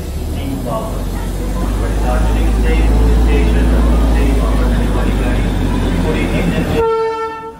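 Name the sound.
Darjeeling Himalayan heritage steam toy train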